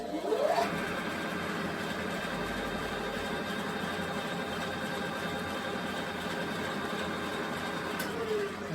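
A Steinel SH4 vertical milling head with freshly replaced FVK3 bearings running at its highest speed, giving a steady, even mechanical whir with a faint rising tone at the start and a short sweep near the end.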